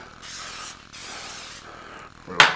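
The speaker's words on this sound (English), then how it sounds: "I like to use the extra virgin olive oil spray." Spray of extra virgin olive oil onto a pan heating on high: a few short hissing bursts from an aerosol can, close and fairly soft, with a brighter final burst.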